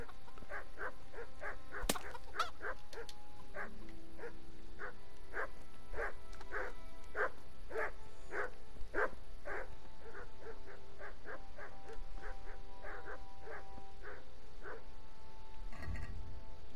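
A dog barks repeatedly in a night scene of the Kingdom Come: Deliverance video game, a long, steady series of sharp barks at a fairly even rhythm, moderately distant, over a quiet background.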